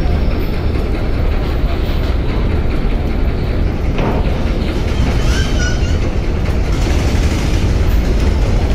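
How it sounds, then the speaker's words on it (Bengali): Large passenger launch Sundarban 15 reversing at speed on a Bangladeshi river, its heavy engine a loud continuous rumbling roar mixed with churning water and broadband noise throughout. "দেখেন কত গতির সাথে ব্যাক গিয়ার দিয়ে যাচ্ছে সুন্দরবন 15"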